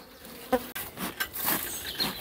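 A honeybee colony buzzes steadily during a hive inspection after winter, a dense near-field hum of many bees with a few soft knocks of frames and equipment.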